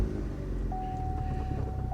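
A Mazda RX8 rotary engine idles after starting, a steady low rumble with a thin constant tone on top, heard close up without talking.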